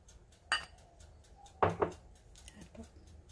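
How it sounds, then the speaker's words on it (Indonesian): Egg yolk and milk stirred in a small bowl for brushing bread buns: a few sharp close clinks of a utensil against the bowl, two bunched together, over quiet room background. "Aduk."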